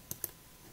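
Two crisp mouse clicks in quick succession while selecting spreadsheet tabs, close and fairly quiet against a faint background hiss, followed by silence.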